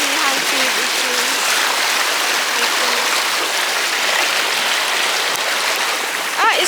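A strong stream flowing in Luang Prabang, Laos, gives a steady, dense rush of water close by that holds the whole time, with a brief voice-like chirp near the end.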